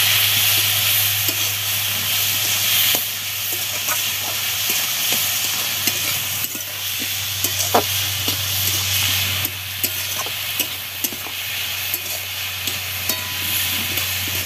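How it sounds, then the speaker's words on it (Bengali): Food frying in a pan with salt and turmeric gives a steady loud sizzle, while repeated scraping and tapping from stirring grows more frequent in the second half under a low hum. "এবার লবণ হলুদটা দিয়ে বেশিক্ষণ আবার একটু ভেজে নেবে।"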